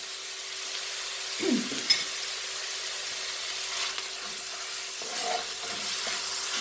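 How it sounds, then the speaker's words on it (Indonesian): Ground ginger, lemongrass and shallot paste frying in a pan, a steady soft sizzle with occasional spoon stirring and a faint clink, quiet and without any voices. "Diaduk-aduk dulu. Diaduk terus ya."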